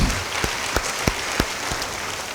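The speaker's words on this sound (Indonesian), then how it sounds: "Beri tepuk tangan buat Tuhan." A church congregation clapping for God during a sermon: a loose, moderate clatter of hands over about two seconds with a few sharper individual claps standing out, no speech.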